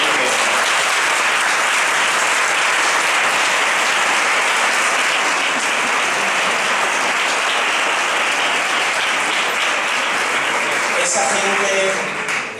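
An audience at a modern-school education conference presentation gives long, sustained applause, a thick wash of clapping that holds steady and loud for over twelve seconds before tapering off at the very end.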